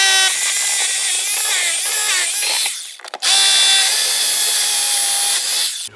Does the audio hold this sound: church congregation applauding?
no